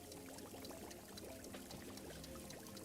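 Steady water pouring and trickling over coffee beans as they are washed in the video game Wanderstop, continuous and fairly quiet with no talk.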